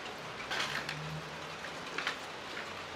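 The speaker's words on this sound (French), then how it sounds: "Bah, la pluie quoi." Rain falls steadily outside an abandoned university building, a soft diffuse hiss with scattered drop patters, fairly faint and with no one speaking.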